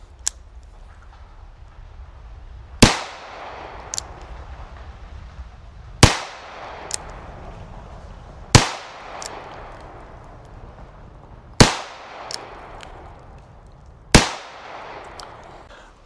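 Five sharp gunshots from a North American Arms mini revolver with a 3-inch barrel ring out outdoors, spaced roughly three seconds apart, each a loud crack with a ringing tail, with a few fainter clicks between shots.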